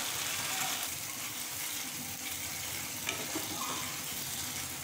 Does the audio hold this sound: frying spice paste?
yes